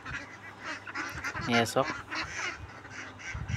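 Ducks being fed grain honk and quack in short, loud bursts near at hand, while a person talks briefly over the flock.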